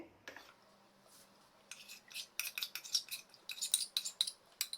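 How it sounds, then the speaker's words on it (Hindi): Spoon clinking and scraping against a bowl while cornmeal paste is stirred into buttermilk for Rajasthani raab, with soft quiet taps early and a denser run of sharp metallic clinks toward the end. "अब इसे छाछ में मिला देंगे।"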